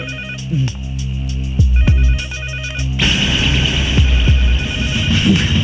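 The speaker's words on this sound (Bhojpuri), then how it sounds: "अरे फोन उठाओ। इतना रात के गुंडन के फोन आवेला, कोई फोन ना उठी।" A telephone rings repeatedly with a steady electronic tone over a low hum and dramatic film music, the ring pattern holding close and loud throughout with no one speaking.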